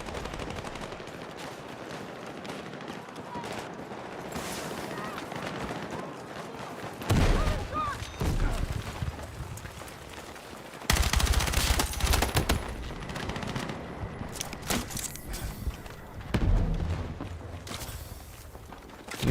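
Gunfire in Battlefield 6 with a weapon that feels spongy: bursts and rapid automatic fire mixed with distant shots and battlefield noise, with someone talking over it.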